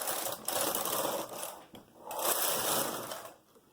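A knitting machine runs its carriage across two rows, giving a loud, continuous whirring slide with a short lull between passes.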